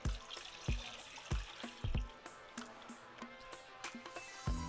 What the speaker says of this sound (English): We're going to cover them with water.